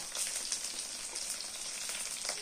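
Onion petals frying in a pan for chilli paneer, a dense steady crackling sizzle close by and moderately quiet, with no voices.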